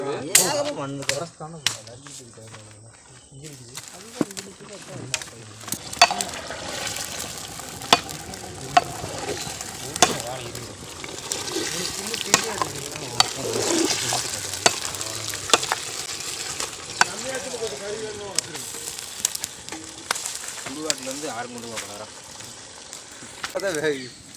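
Meat curry cooks in a pot in a village kitchen, a bubbling sizzle with scattered clinks and scrapes throughout, while a voice speaks over it at times.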